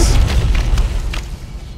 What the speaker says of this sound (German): Boah, und explodieren tun sie auch noch, ne?